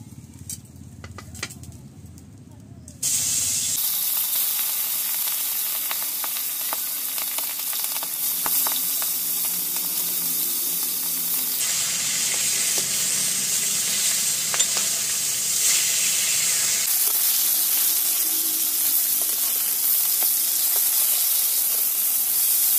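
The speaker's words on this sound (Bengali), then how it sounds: "প্রথমে মাছ ভেজে নেব। তেল দিচ্ছি।" Silver carp pieces, salted and coated in turmeric, hiss and sizzle loudly in hot oil in a pan, a steady dense frying crackle that shifts in intensity as the fish is moved, with no talking.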